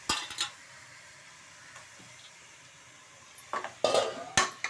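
Half a kilo of washed mutton is sautéed in a pot, with a faint sizzle under a few scattered spoon scrapes and clinks, then a sharper clatter of utensil against pot near the end.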